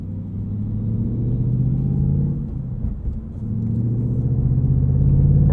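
A 2022 Ford Mustang Mach 1 with a manual Tremec 6-speed and handling package drives along, its engine giving a deep, steady rumble from the cabin. A dip near the middle suggests a shift before the drone builds again, with no talking.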